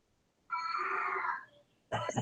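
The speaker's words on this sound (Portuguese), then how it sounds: "Um barulhão de gato." A cat yowls loudly from a neighbor's house, likely in heat, in one sustained, wavering cry of over a second, followed by a brief pause and a sharp, noisy burst at the end.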